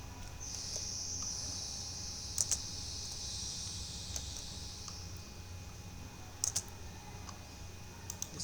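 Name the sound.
typing a formula on a computer keyboard in Excel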